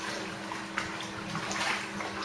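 An Epsom salt solution made with hot and cold water is poured slowly into a pottery glaze mix, a soft continuous trickle of liquid with faint splashes.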